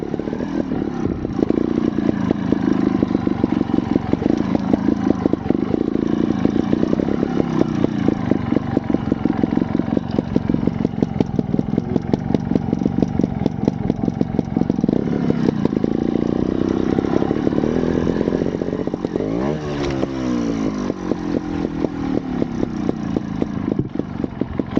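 A Scorpa 250 trials motorcycle rides continuously close by on a practice course, its engine chugging and revving with rapid clattery pulses and a brief rising throttle blip near the end.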